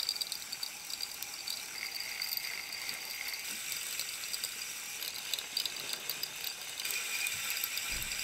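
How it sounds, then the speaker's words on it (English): Fishing reel spun on a Piscifun line spooler, giving a steady, fast ratcheting click-whir that runs continuously throughout at moderate level, close by with no voices. "we're going to start spooling the reel."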